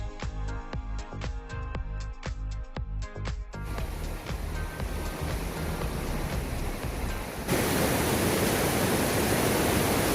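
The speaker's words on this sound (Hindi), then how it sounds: "ये जो नदी की आवाज आ रही होगी आप लोगों को" Riverside water rushes steadily by a mountain highway near Pahalgam, a broad continuous roar that grows louder and fuller toward the end, heard close with no voices.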